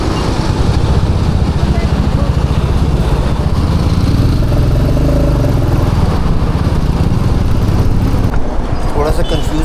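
Royal Enfield motorcycle ridden solo on a highway, a loud continuous engine thrum with wind rush close to the rider, easing off near the end.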